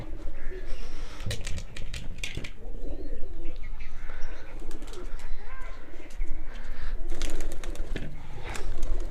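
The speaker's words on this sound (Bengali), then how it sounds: "আমাদের সব কবুতর বাইরে চলে এসছে এবার আমরা আমাদের কবুতরগুলোকে" Pigeons coo repeatedly just outside their coop, soft throaty calls overlapping through the whole stretch, with occasional chirps, wing flutters and light tapping nearby.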